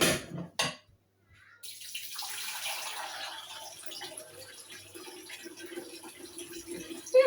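A hot glass dish clatters briefly, then after a pause cold tap water runs steadily into a sink around it, a soft continuous splashing hiss that ends with a small clink.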